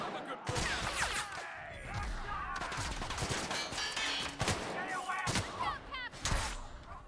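Repeated pistol shots ring out in The Outer Worlds video game, sharp cracks fired in quick irregular bursts amid other combat noise and close, loud impacts.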